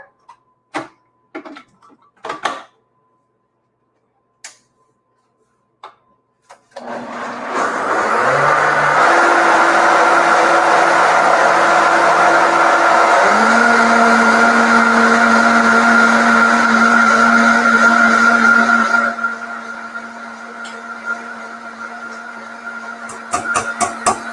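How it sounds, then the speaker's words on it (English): Countertop blender whirring through a mix of fat, milk, tofu and flavorings in a kitchen, loud and steady for about twelve seconds with a pitch shift midway, framed by clinks and handling noises before and after. "I'm going to put this on the blender."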